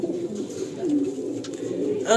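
Racing pigeons coo softly in a loft, a low steady burbling that runs under people talking throughout.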